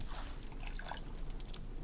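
Fresh water splashing onto plants in the survival game Raft, a busy run of close, wet drips and small splatters in quick succession over a constant background, with no talking.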